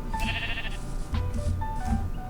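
A rare pink baby sheep in a Minecraft-style video game bleats a few times: short, fairly near calls over a steady low game background, with no talking.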